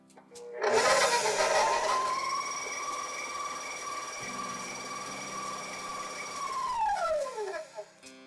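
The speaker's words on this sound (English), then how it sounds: "For our brioche bread, our mixer is actually going to get a pretty good workout today." A stand mixer with a paddle attachment beats brioche dough at medium to medium-high speed. The motor whine rises at the start, holds steady for several seconds, then winds down.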